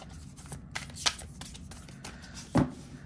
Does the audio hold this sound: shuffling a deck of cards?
yes